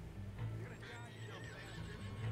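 Horse in the video game Red Dead Online whinnying over clip-clopping hooves, fairly quiet and close, with rhythmic steps under a low game soundscape and some speech.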